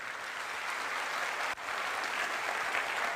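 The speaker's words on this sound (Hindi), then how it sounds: "एक जोरदार तालियां होनी चाहिए।" A steady wash of audience applause at a wellness talk, even and continuous throughout with a brief dip midway, no voices over it.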